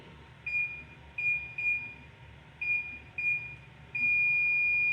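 Oven control panel beeping as the temperature is lowered to 450 for baking bread: a series of short, clear electronic beeps in an irregular rhythm, then one longer sustained tone, alone over faint room hum.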